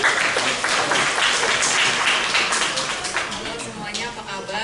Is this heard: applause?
yes